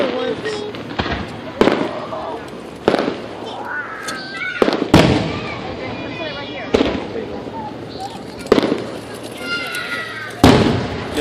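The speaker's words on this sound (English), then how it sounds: "Talk about some big fireworks." Big fireworks explode outdoors, loud booming bursts every second or two with crackling tails between them, while people talk and react nearby.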